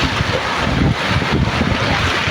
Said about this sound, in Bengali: তুফান হয়ে যাচ্ছে চরম তুফান